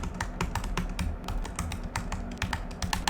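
Rapid, irregular clicking of fingers typing code on a computer keyboard, close and crisp, with keystrokes tumbling out in quick bursts and no talking.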